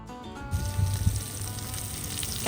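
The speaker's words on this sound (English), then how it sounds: "grilling up some steak in my cast iron pan, outside in the fresh air, loving it, and in the pan it goes" Steak hitting hot butter in a cast iron pan outdoors gives a loud sizzle that swells as the meat lands, then settles into a steady crackling fry.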